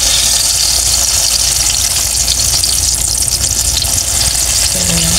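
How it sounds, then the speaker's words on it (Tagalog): A second batch of eggplant sizzles in hot oil in a home kitchen, a loud, steady crackling fry that fills the whole stretch, with a brief clink near the end. "pagpiprito po tayo ng ating pangalawang batch ng talong"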